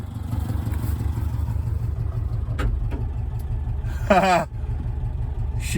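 A 1984 Subaru Brat engine, revived after sitting for 10 years, idles steadily at very low revs with a low, uneven rumble close by, joined by a brief clatter and a short squeal partway through.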